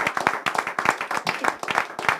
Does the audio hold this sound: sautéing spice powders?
no